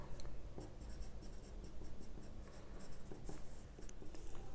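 A pencil sketches across paper in quick, scratchy strokes, a faint, steady rhythm of close-up scribbling on a drawing of a dog.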